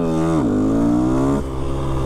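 A KTM 125 SX two-stroke supermoto engine revs up, pitch climbing steadily and loudly from close by, then drops back to a rougher idle-like drone; no one talks.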